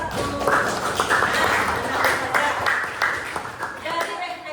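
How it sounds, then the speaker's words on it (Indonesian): A class of sixth-grade pupils claps for a group in quick bursts, with voices talking and calling out over the clapping throughout. "Kita kasih tepuk tangan untuk kelompok"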